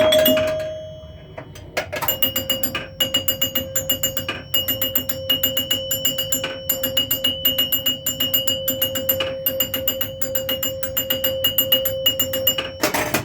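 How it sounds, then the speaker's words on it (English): A Joker Poker pinball machine counts out its max bonus with rapid, repeated bell chimes, ringing in a steady fast rhythm for over ten seconds, loud and close, after a brief quieter tone at the start. "you get to hear the chimes now then, won't you?"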